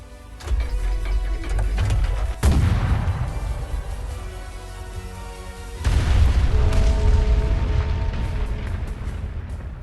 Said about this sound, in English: The cannon strikes the giant bell at the center of Auteric